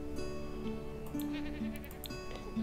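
Sheep- or goat-like bleats, brief and wavering, repeat several times over a steady tonal backdrop in a farming video game set in the 1330s; no talking.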